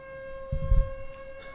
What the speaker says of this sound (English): I guess they're testing the sirens.